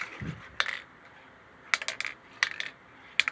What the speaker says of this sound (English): When y'all shake a can of paint, have you ever,